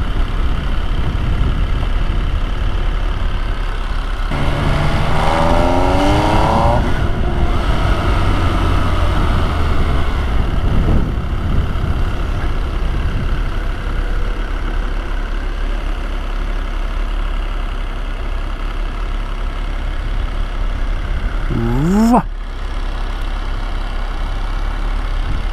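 A steady, loud engine rumble from an MV Agusta Brutale 800 motorcycle, idling and revving briefly, with no talk heard.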